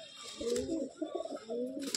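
Madrasi or Andhra breed pigeons at a loft in Sodhpur coo in close, repeated throaty burbles, soft and rolling, with a little handling noise around them.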